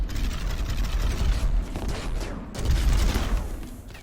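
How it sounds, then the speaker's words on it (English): Mortar fire in a RimWorld battle: a string of heavy booming shots and dull thuds, moderately loud and irregular, with no voices. "maybe have some fun with the mortars"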